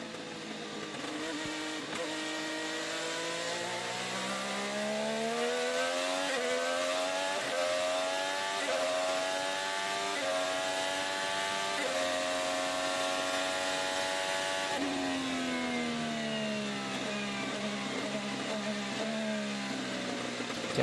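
IndyCar race car engine heard onboard with Josef Newgarden at Mid-Ohio during practice, a loud, continuous high-pitched whine rising and falling through gear changes and corners, with a sharp downshift drop near the end.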